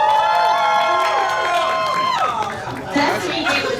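A convention panel audience cheers in a lively burst of overlapping shouts and whoops, with chatter running through the crowd noise.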